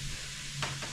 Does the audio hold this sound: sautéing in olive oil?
yes